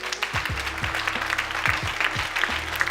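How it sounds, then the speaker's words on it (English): An audience applauds steadily, a dense wash of clapping from a sizable crowd, with a few low thumps mixed in. "So give yourselves a round of applause."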